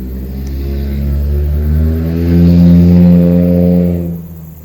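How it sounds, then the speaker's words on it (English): A loud car passes on a street just beside a backyard in New Zealand, its engine rumbling and revving as it builds to a peak near the middle and then fades quickly away. "Some cars are just so loud."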